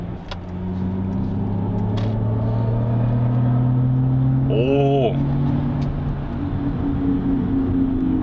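A Mercedes-Benz EQS electric car's steady synthetic, engine-like whine hums inside the moving car over road rumble, its tones gliding in pitch with speed and pedal input; a voice briefly exclaims.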